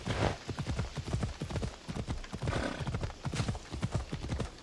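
A horse gallops in Assassin's Creed Odyssey with fast, rhythmic hoofbeats that are loud and close, keeping up a steady driving pace throughout the clip.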